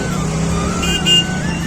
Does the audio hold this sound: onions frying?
no